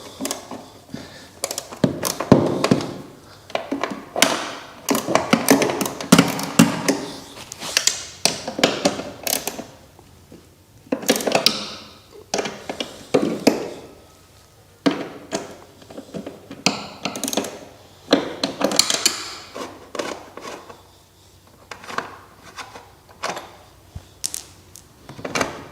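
A 10 mm socket works loose the seat bolts inside a Ford Focus Mk1, making bursts of metallic ratcheting clicks and taps separated by short pauses, close up and with no speech.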